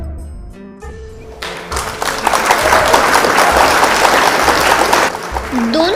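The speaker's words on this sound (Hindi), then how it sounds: "तो हम ट्रांसिया की मॉडल्स का भरपूर तालियों में स्वागत करते हैं।" Audience applause welcoming models onto a fashion show runway swells from quiet into a loud, dense clapping roar that holds steady, after some brief tones and taps at the start.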